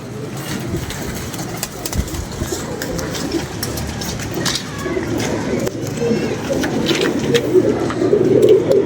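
Pigeons in a loft coo in a low, continuous, overlapping murmur, close by and growing a little louder toward the end, with a voice and faint background activity mixed in.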